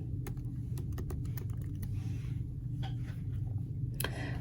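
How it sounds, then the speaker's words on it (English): Keys clatter on a computer keyboard as a word is typed in, a quick run of light clicks in two bursts over a low, constant background hum. "we are going to type in ecosystem"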